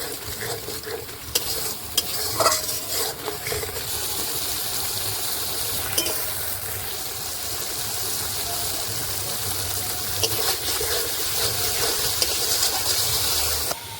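Mustard paste with turmeric fries lightly in a hot pan, a continuous soft sizzle overlaid with intermittent scraping of a spatula stirring throughout, moderately close and without voices.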